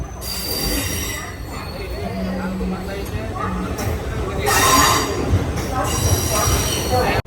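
A MEMU passenger train pulling into Visakhapatnam Junction, wheels squealing against the rails amid a continuous rumble, heard from on board with people talking nearby.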